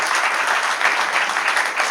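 Steady applause from an audience at a Hindi poetry recital fills the room, an even, dense clapping sustained throughout at moderate loudness.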